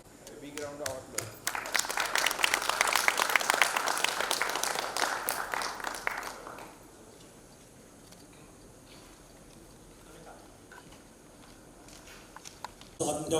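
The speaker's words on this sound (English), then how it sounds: "A big round of applause." Audience applause at a steel technology talk on metallurgical coke making, a dense burst of clapping that swells for about six seconds and then stops, leaving quiet room tone with a few scattered claps at the end.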